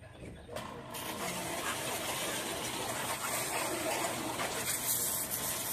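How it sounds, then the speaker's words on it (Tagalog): Water spraying over a motorcycle as it is washed before a ride on muddy roads, a steady close gushing hiss that starts after a brief quieter moment and continues evenly to the end. "Magligo muna tayo sa motor."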